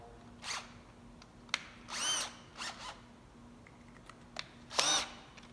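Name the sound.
power drill drilling pilot hole in Dodge truck bedside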